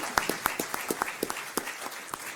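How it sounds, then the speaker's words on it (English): Small group of chapter members at a board meeting clapping in a sparse round of applause, individual claps audible in an uneven quick rhythm, fairly close. "let's give them a round of applause"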